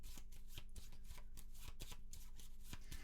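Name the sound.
shuffling cards in Maquis board game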